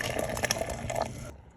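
Freshly boiled root beer is poured fast from a container, a bright liquid splashing and gurgling stream lasting about a second before cutting off abruptly.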